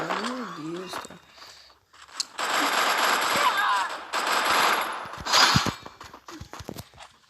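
Sustained machine-gun fire in a shooting video game's training area, long loud bursts with brief pauses, and someone speaking excitedly before and between the volleys.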